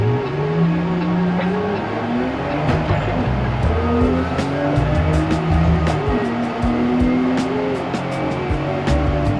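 A car in a racing simulator, driven through a homemade sequential shifter built from scrap, revs up in repeated rising sweeps as it changes gears. Tires squeal and skid, with sharp clicks scattered throughout.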